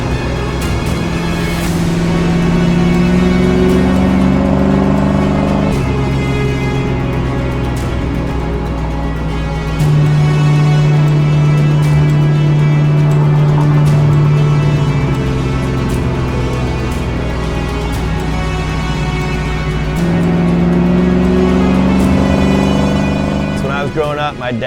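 A 1995 Chevrolet CK1500 pickup with a Gibson exhaust and big muffler gives a steady, throaty idle and mild revving. It holds a fairly loud, continuous rumble the whole way through with shifting pitch, and no one talks over it.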